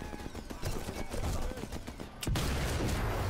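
Gunfire in the video game Sniper Elite 4, rapid repeated shots in a fast automatic burst, loud and close, followed by a heavier blast.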